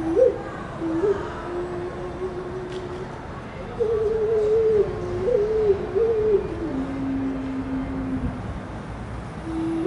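A human voice imitates the Chinese xun, a traditional wind instrument, in a mouth-acrobatics performance, producing hollow, breathy sustained tones that glide and wobble in a slow melodic line across several phrases.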